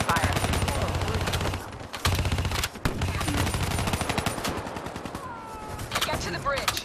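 Sustained automatic gunfire crackles in dense rapid bursts during a Call of Duty Black Ops 3 firefight, loud and close, with brief pauses between volleys and a few voices underneath.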